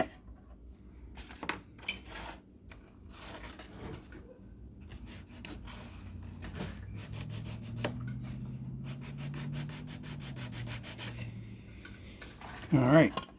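Sanding old glue off a Titanic wreck model: light, scratchy rubbing strokes in short bursts, close and fairly quiet, with a low hum and a voice partway through.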